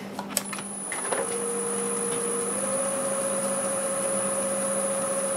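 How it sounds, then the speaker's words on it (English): A wood lathe spins a turned segment while a parting tool cuts down through it, a steady close whir with a high sustained tone, preceded by a few sharp clicks at the start. "So I'll use my parting tool. I'll just kind of cut it down through the middle"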